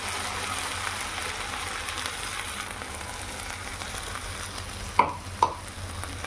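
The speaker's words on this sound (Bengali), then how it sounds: "এবার পোস্তটা দিয়ে পেঁয়াজটা আমরা খুব ভালো করে আবার ভেজে নেব।" Onion fries with ground poppy seed paste, chillies and salt in a steady close sizzle with soft stirring, ending in two sharp utensil knocks against the pan.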